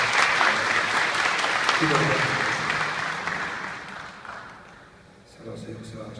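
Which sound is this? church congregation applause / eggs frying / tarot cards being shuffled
church congregation applause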